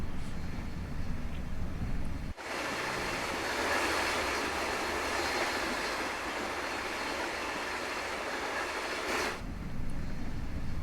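ICMm Koploper train in Train Sim World 5, running at speed: a continuous broadband rumble of wheels and rail that cuts out abruptly, then returns for several seconds before another sharp cut.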